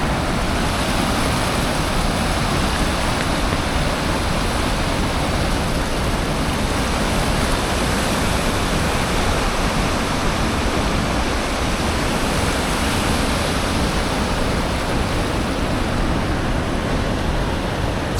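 River water in Munich rushes steadily over weirs, a dense, loud, unbroken hiss and roar that holds constant with no voices.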